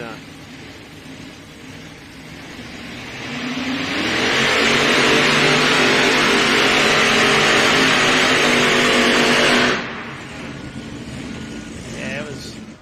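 Pulling tractor at a California truck and tractor pulling event, its engine running rough and struggling at idle, then revving up into a loud sustained roar for several seconds before dropping back, with a commentator talking over it.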